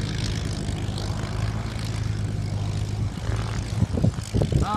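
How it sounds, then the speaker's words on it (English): A Supermarine Spitfire propeller aircraft taxis on a windy airfield, its engine a steady, loud, throbbing drone with low rumble that swells and sputters slightly near the end. "Here's the Spitfire taxiing back in."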